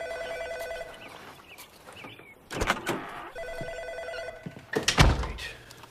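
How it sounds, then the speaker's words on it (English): A telephone rings with repeated electronic trills in steady bursts, heard at moderate level, interrupted by a couple of loud thumps and rustling handling noises. "Ray, if you're there, pick up the phone."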